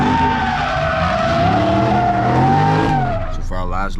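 Car tires skidding at a street car meet in Philadelphia, a loud sustained squeal over a revving engine that shifts pitch and then breaks up near the end.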